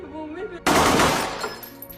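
A burst of gunfire erupts in a violent film scene of a terrorist attack on a hotel in Mumbai, loud and sudden after a stretch of music, with rapid shots and a crashing wash of noise that slowly fades.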